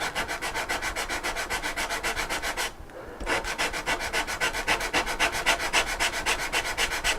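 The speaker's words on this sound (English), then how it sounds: "And I'll grind this down." A pistol grip is ground down by hand with 80 grit abrasive, giving fast rhythmic back-and-forth rasping strokes close up, with a short pause midway before the scraping resumes.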